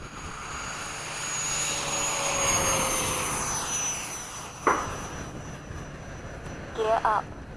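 An RC F-104 model jet throttles up with a steady rising turbine whine and rush, heard outdoors and moderately loud, with a sharp click partway through and a voice talking over it.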